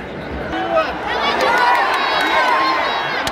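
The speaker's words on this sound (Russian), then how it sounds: "Болельщики скандируют: вперед, Самара, мы с тобой." Football supporters chant together in the stands at a Krylia Sovetov versus Nizhny Novgorod match in Samara, a dense, loud, continuous crowd roar with rhythmic sung voices throughout.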